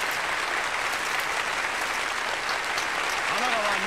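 Loud, dense applause for election results in the video game Yakuza 7 rolls on steadily for the whole stretch, with a voice briefly audible underneath near the end.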